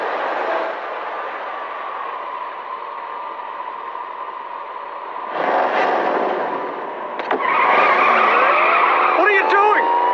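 Tires squeal as a car is driven erratically in an animated Family Guy cartoon, a steady engine hiss rising into sharper skids toward the end, with people talking over it.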